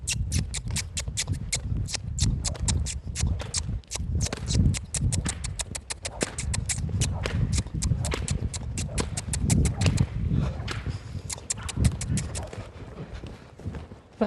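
Hoofbeats of an ex-racehorse (former trotter) cantering, a steady rhythmic clip-clop throughout with a faint voice now and then underneath.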